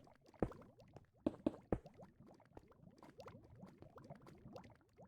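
Water bubble column in the video game Minecraft, a steady stream of popping, gurgling bubbles rising continuously, with a few sharper pops near the beginning, quiet and close.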